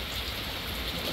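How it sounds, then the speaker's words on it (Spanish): Heavy rain pours steadily during a strong downpour, a dense, hissing roar of drops on surfaces that stays constant and close for the whole moment, with no voices. "Es que ha llovido demasiado, gente."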